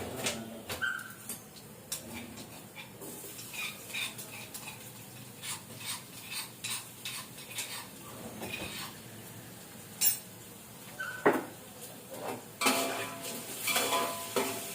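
Curry leaves and garlic dropped into a hot pan for a lemon-rice-style tempering, then stirred, with repeated close spoon scrapes and clinks against the metal pan over a light sizzle.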